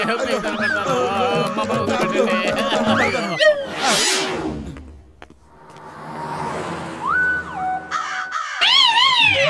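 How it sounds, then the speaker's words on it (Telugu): Cartoon crows caw repeatedly in an animated Telugu kids' show, loud and layered over music, sound effects and character voices in a busy, chaotic scene. "కాకులు మమ్మల్ని వెంబడిస్తున్నాయి"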